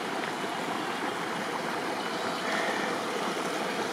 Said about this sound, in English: it is the nicest little batch of running water I have found on the hike up from the house